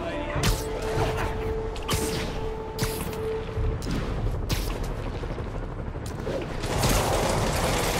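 Rapid bursts of gunfire crackle through a Spider-Man video game battle, several sharp broadband shots spread across the scene with a dense, noisy background and a brief tonal whine early on.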